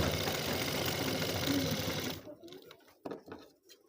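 Sewing machine stitching the shoulder seam of a ladies' kurti, a loud steady motorized whir for about two seconds, then stopping, followed by faint handling noises of the fabric.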